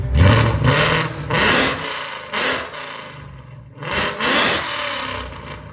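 A 675hp supercharged Roush GT engine with valved mufflers opened revs in loud, rasping surges, rising and falling in three long swells, close and harsh with no talk.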